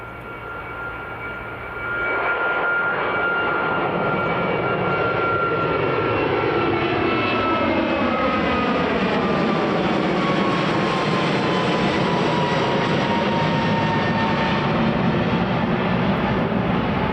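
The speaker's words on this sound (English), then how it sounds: "Zulu X-Ray India Alpha, heading to Venice. And again, that is pretty much a brand new A321 Neo." A brand new Airbus A321neo jet at Edinburgh Airport roars loudly and steadily, engine whine and broadband rumble swelling after a quiet start and sweeping tones shifting as it passes close by.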